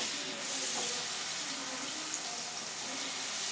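Ginger garlic paste fries in hot oil, making a steady, dense hiss close by that stays even throughout with no clear pauses or talking.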